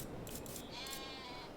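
Sheep bleating in the farming game Farming Simulator 22, a couple of short wavering calls rising over a steady, dense bed of ambient game sound.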